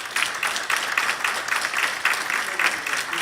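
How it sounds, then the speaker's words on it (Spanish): A church audience applauds warmly, a dense, steady wash of many hands clapping together throughout, fairly loud and close. "pues le damos un gran aplauso,"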